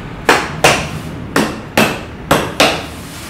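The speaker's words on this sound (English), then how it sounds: "So we put them in just a little bit, just enough that we can then start hammering." Six sharp hammer blows land in pairs as wooden canvas stretcher bars are knocked together, each strike close and loud with a short ringing decay and no talking.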